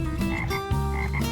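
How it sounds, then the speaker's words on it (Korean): Frogs croaking outdoors in spring, a close, loud run of rapid rasping calls repeating in quick pulses with no voices. "개구리가 우는 거 보니까 봄이 왔네요."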